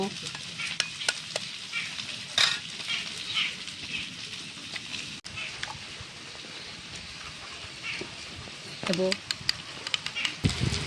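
Potatoes frying in a pan for a rainy-day khichuri meal, a steady sizzle with scraping stirs, under a person talking and occasional clatters of utensils.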